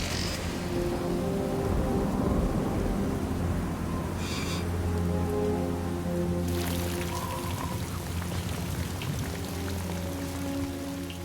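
Steady heavy rain pours down on a crumbling cliff during a thunderstorm, a constant dense hiss with a low rumble of distant thunder rolling underneath throughout.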